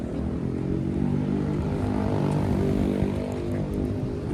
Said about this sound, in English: that motorcycle needs a freaking tune-up